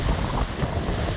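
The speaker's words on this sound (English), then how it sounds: "Windy too." Strong wind roars across the microphone aboard a shanty boat, a steady rushing buffet with deep rumbling gusts, with surf-like noise from breakers underneath.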